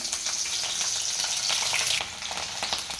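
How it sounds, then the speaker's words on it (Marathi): Green chillies fry in hot oil with a steady, bright crackling sizzle that surges and settles, close and continuous throughout with no talking. "गरम तेलात मिरची तळत राहते"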